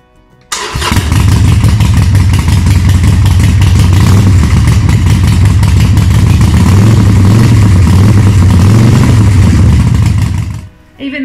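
Harley-Davidson Iron 1200 Sportster XL1200NS with Vance and Hines big radius exhaust pipes starts and runs close by, a loud, steady, deep rumble that carries on for about ten seconds before cutting off.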